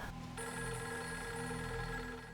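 A telephone rings steadily in the Fatal Frame 3 video game, a continuous electronic bell tone with sustained harmonic ringing over a low background hum.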